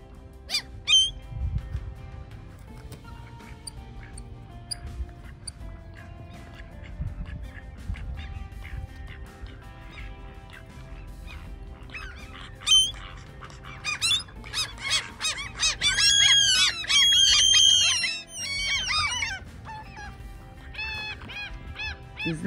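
Ducks and seagulls call over bird water on an April morning in Tveiten: scattered quacks and squeaky cries at first, then a dense burst of overlapping gull calls and honks, moderately near above low ambient rumble.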